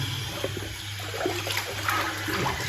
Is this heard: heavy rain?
no